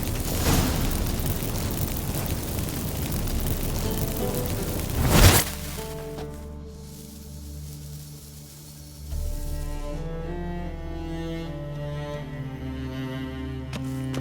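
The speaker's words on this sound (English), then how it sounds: "Get ready for some magic fireworks." Magic fireworks set off by burning incense in The Witcher 3: a roaring hiss gives way to one loud bursting bang, then quieter tonal ringing and a later rumble, with no one talking.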